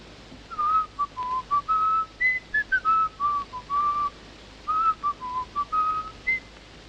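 A man whistles a wandering melody alone, clear and close, in short phrases separated by brief breaths.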